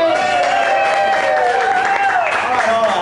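Crowd at a magic show applauding and cheering for a volunteer from the audience, loud continuous clapping with excited whoops and voices rising over it.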